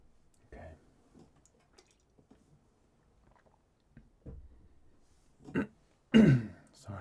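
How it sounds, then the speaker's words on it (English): A person clears their throat in short, rough bursts, close and fairly loud near the end after a stretch of quiet clicks and small handling noises. "Sorry, I just had to clear my throat there."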